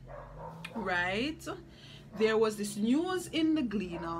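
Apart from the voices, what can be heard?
dogs barking in the background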